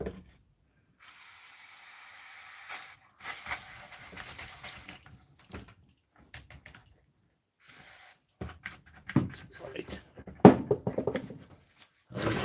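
Contact cleaner sprayed onto a runner during a repair session, heard as a few steady hissing aerosol bursts of a second or two each, followed by clattering handling noises near the mic.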